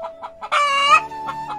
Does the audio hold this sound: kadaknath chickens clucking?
yes